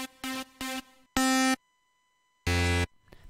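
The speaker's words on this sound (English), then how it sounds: "That's another super saw." Bright super saw synth in FL Studio sounds in a few short sustained bursts, two quick stabs followed by longer held notes separated by silence, loud and isolated.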